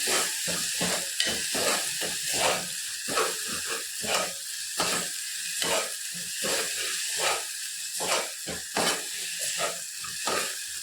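Vegetables frying in a pan are stirred with quick, rhythmic scraping strokes over a steady hiss of sizzling oil, heard close with no talk.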